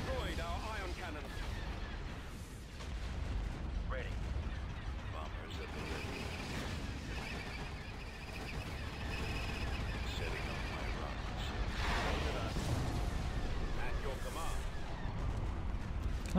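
Barrages of torpedo fire in the space strategy game Empire at War, a continuous dense rumble of launches and impacts with scattered sharp bursts, playing loud under game voices and effects.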